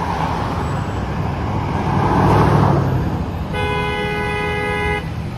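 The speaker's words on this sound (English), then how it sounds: "this honking sound normally bothers me" A car horn gives a sustained, steady honk in street traffic in a North York neighbourhood near a bus, rising over a constant roar of passing vehicles.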